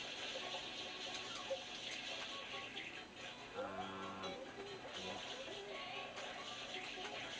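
Spraying water in the game Super Mario Sunshine makes a steady hiss like a faucet, running under a soft voice that talks now and then through the stretch.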